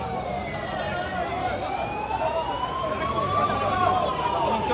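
An ambulance siren wails, rising and falling at a distance, over a noisy crowd at a large street march in Algiers, with voices murmuring throughout.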